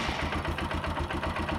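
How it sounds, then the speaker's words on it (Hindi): A motorcycle engine being prepared for an oil-level check runs at a steady idle, a low rhythmic thrumming chug that stays even and close throughout, with no talk over it. "बट उसके लिए हमारे को बाइक स्टार्ट करनी पड़ेगी"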